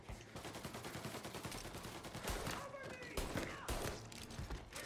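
Gunfire in the video game Mafia Definitive Edition: dense, loud bursts of rapid shots crackling continuously, with heavier thumps mixed in and voices talking over the shooting.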